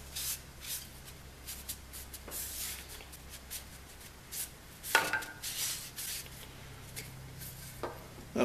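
A damp cloth wipes across a sanded wooden organ base in a quiet workshop, making soft, faint, irregular swishing and rubbing strokes with short pauses between them.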